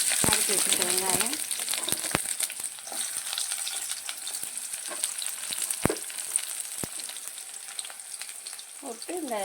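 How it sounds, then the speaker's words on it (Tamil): Onions frying in sesame oil in a pan after mustard seeds go in: a loud, steady sizzle with sharp crackling pops throughout, and a voice talking briefly at the start and end. "கொஞ்சம் வெங்காயம் போட்டுக்கிறோம்,"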